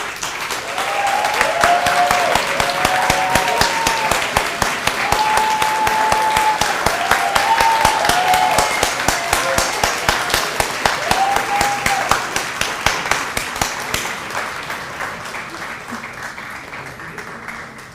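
Sustained applause from a large audience at a graduation ceremony, dense and loud, with occasional cheers and whistles, fading slightly toward the end.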